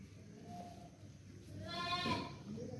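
A single short bleat from a hefty male goat offered for sale in Pakistan rises briefly out of quiet background noise, moderately close and fairly faint, with no speech over it.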